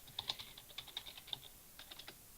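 Keys on a computer keyboard clatter in quick, uneven bursts of sharp clicks, close and fairly quiet, with a short pause mid-way before typing resumes.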